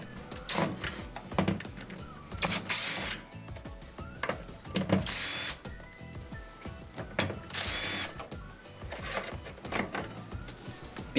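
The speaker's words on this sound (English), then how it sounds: "remove the 6 1/4 inch screws that secure the dispenser assembly to the door liner" A power driver whirs and ratchets in repeated short bursts, backing out six quarter-inch screws that hold the dispenser assembly and sheet-metal bracket to the door liner of a Maytag dishwasher, close up with clicks and pauses between screws.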